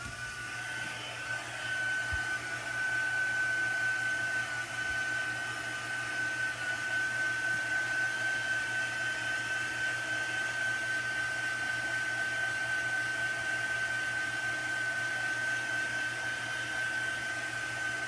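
A heat tool drying and heat setting chalk paste on a craft piece, blowing with a steady, loud, close whir and hiss that runs unbroken from start to finish.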